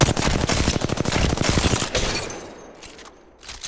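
Rapid automatic gunfire from Apex Legends weapons rattles loudly in a dense burst for about two seconds, then gives way to quieter scattered shots and fading game noise.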